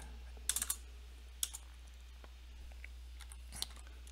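Quiet keystrokes on a computer keyboard come in a few short bursts of clicks, sparse and close, with a steady low electrical hum beneath.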